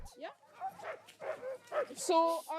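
Dogs in Svalbard yip and bark in short bursts while being harnessed, fairly close, mixed with people talking nearby.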